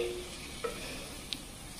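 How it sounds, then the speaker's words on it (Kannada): Dates frying in a pan on a low flame make a faint, steady sizzle with a couple of soft clicks from stirring or the utensil, with no talking. "ಖರ್ಜೂರ ನೋಡಿ ಲೋ ಫ್ಲೇಮಲ್ಲೇ ನಾನು ಫ್ರೈ ಮಾಡ್ಕೊತಾ ಇದ್ದೀನಿ"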